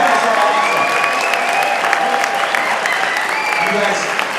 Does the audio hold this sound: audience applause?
yes